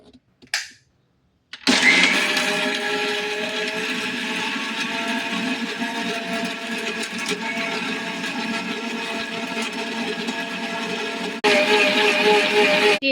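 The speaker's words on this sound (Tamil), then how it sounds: "மாவு கெட்டியாக அரைக்கணும்" A mixer grinder grinding thick lentil and rice batter starts with a short burst, then whirs loudly and steadily at close range, its pitch shifting slightly before a brief stop and restart.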